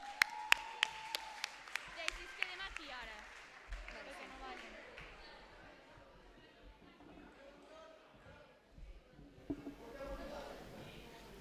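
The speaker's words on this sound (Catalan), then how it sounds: "Un fort aplaudiment." Faint applause from an audience at a secondary-school graduation ceremony, scattered claps under murmuring voices and some tonal bursts, quiet and somewhat distant.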